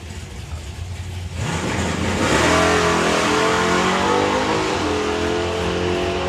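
A drag racing run with an El Camino running alongside a Camaro at a national finals event: engines idle low, then erupt into a loud, sustained full-throttle roar with climbing revs that holds to the end.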